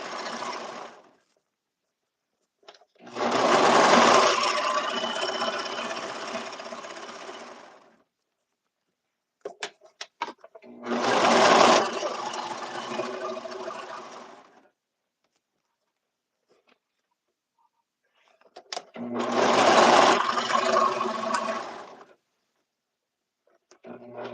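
A serger stitches seams on a suit in three long runs of several seconds each, a loud, steady whirring with clear pauses and small handling clicks between runs.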